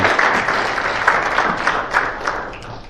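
An audience applauds after a talk on the fourth industrial revolution, a steady moderately loud patter of many hands clapping that continues evenly for the whole stretch, with little else heard.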